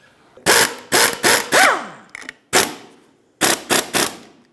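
A wrench snugs the nut on a rear strut mount of a 2012–2020 Ford Focus, giving close, loud ratcheting bursts in quick groups of three or four with short pauses between them.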